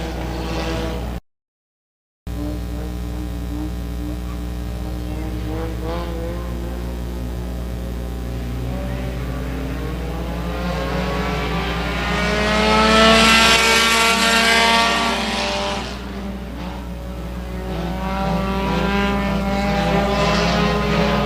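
Compact-class race cars circle a speedway during a heat with three cars left, a steady loud engine drone that swells as they pass close around the middle, then settles back to a sustained roar.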